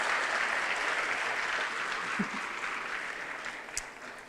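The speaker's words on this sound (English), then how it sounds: "let's give this wise and young woman another round of applause" A gathered audience at an employee event claps in a sustained round of applause, dense and fairly loud, tapering slightly toward the end with a few sharper claps standing out.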